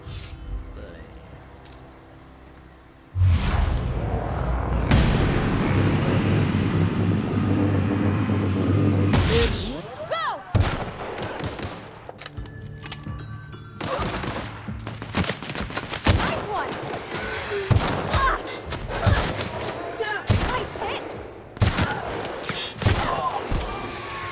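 Gunfire and grenade launcher explosions in The Outer Worlds: a long sustained burst of shooting, then many sharp separate shots and blasts in irregular clusters, loud and close, with a voice talking over parts.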